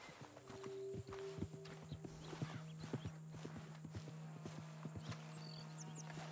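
Horse hooves clip-clopping at a steady walking pace in Red Dead Redemption 2, a run of clear, fairly close hoof strikes over a low ambient hum with faint background tones.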